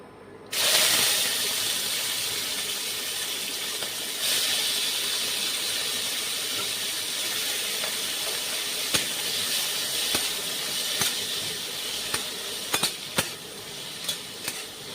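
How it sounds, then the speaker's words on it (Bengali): Small shrimp fry in hot oil, a dense, steady hiss that starts abruptly and holds close and loud throughout, joined by a series of sharp pops and utensil clicks toward the end, with no talking. "চিংড়ি মাছটা একটু হালকা করে ভেজে নেব"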